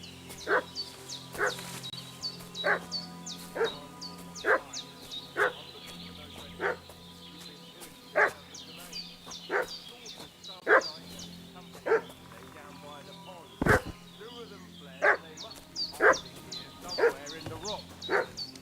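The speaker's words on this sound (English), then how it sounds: "What's that dog making such a fuss about?" A dog barking in a medieval village setting in the video game Kingdom Come Deliverance 2, giving a long run of evenly spaced, sharp barks with some yips, moderately close amid faint ambient sounds.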